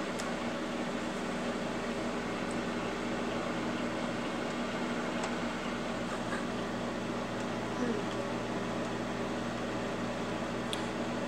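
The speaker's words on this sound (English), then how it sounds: "stick the bowl or plate, as the case may be, in the microwave and set it to two minutes" A microwave oven hums steadily, a constant faint drone that does not change.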